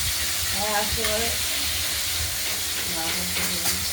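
Rithe fish from the Ganges frying in hot oil, a steady loud hiss and sizzle under a person talking.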